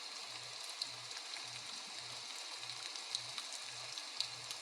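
Steady rain hisses in a broad, even wash over a forest setting, with scattered drip ticks and a soft low throb pulsing in a regular rhythm beneath it, unbroken and moderately quiet.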